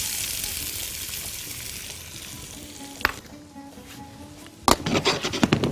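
Onions frying in a pan with a steady broadband sizzle, sharper crackling bursts near the end as they are stirred, close and moderately loud with no talking.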